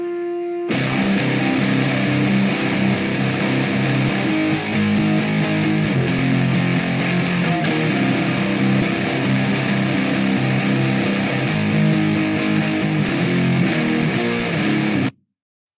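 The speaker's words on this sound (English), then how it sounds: "I basically recorded all the guitars through my Fender Man amp with this pedal. This is the Boss MD2, the Mega Distortion." An electric guitar played through a Boss MD-2 Mega Distortion pedal into a Fender amp, loud saturated chords sustained continuously for about fifteen seconds before cutting off abruptly.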